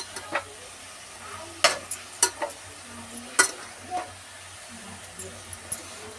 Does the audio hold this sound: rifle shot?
no